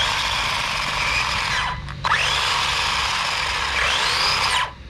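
An Arrma Granite RC monster truck runs with a high, whirring gear or spur rub, loud and close, rising and falling in pitch with a short break in the middle.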